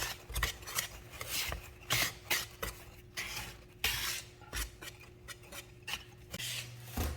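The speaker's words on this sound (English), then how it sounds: "We can whisk the dry ingredients together." A whisk stirs dry ingredients for pumpkin bread in a bowl, making repeated scraping and rasping strokes with brief clinks. The sound is close and moderately quiet.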